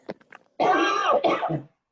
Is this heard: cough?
yes